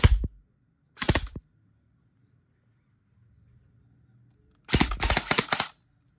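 E&C 801 VLTOR full-metal airsoft gun firing through a chronograph: a single sharp shot, then a short quick burst, a quiet pause, and a longer rapid full-auto string, all close and loud against near silence.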